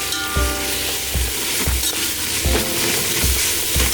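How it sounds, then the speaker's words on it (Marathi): Ginger-garlic paste frying with whole spices crackles in a continuous sizzle, while a spoon stirring and scraping the pan adds regular low thumps about every half second. "खडे मसाला घातल्यानंतर आता एक वाटी आलं लसूण पेस्ट घालायची मिक्स करायचं"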